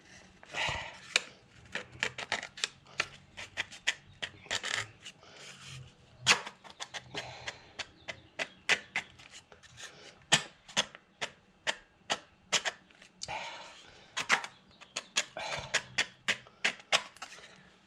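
Plastic of a Jaguar MKII interior rear light being cut and picked at by hand, a long run of sharp close clicks and scraping snicks in uneven bursts, quiet and without talk.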